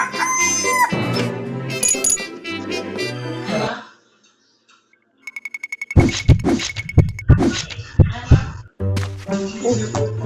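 Loud, close chickens and roosters cluck and crow in bursts, with a short quiet gap and some sharp knocks among the calls, during a cockfight between a red rooster and a feathery one.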